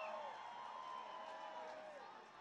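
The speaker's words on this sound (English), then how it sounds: "They're cheering, you can hear them cheer." Distant crowd cheering and yelling during the 2017 solar eclipse, a steady broad wash of many voices outdoors, fairly faint and continuous, easing slightly toward the end.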